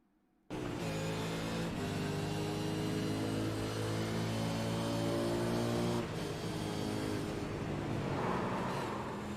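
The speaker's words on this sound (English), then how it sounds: "Have a listen to car number 18." A race car engine heard on board car 18 in an iRacing event at Darlington Raceway, a steady loud drone holding pitch with a brief dip partway through, no talk.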